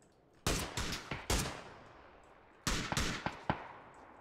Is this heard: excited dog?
no